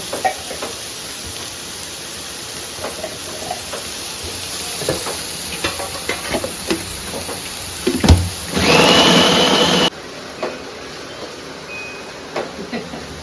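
Masala roasting and sizzling in a pan while kale chole are being cooked, a steady frying hiss with scattered stirring scrapes and a louder burst of sizzle partway through before it quiets.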